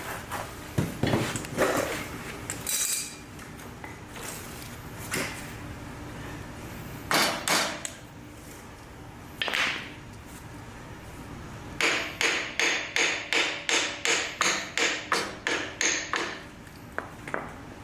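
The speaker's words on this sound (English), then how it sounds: "My brass hammer." A brass hammer strikes metal on a 1961 David Bradley tractor axle with sharp ringing taps, scattered at first, then a quick even run of about a dozen blows near the end.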